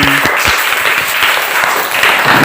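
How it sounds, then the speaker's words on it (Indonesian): A classroom of children claps loudly and vigorously during a morning lesson, with dense rapid hand claps continuing throughout and brief voices at the start. "Oh, keras sekali tepuk tangannya."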